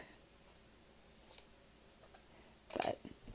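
Scissors snip through the plastic packaging of a Dreamcatcher KCON:TACT Season 2 AR photo set, with a faint cut near 1.4 s and a louder, sharper crisp cut around 2.8 s over quiet room tone.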